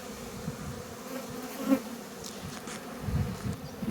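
Honey bees buzz steadily at an open hive being inspected during a Varroa mite treatment, a continuous close-up drone that swells briefly midway, with no talking.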